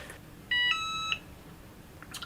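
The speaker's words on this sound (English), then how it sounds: "my easy press just beeped, so we're preheated now" A Cricut EasyPress heat press gives a single steady electronic beep of about half a second when it finishes preheating, clear and close against a quiet room.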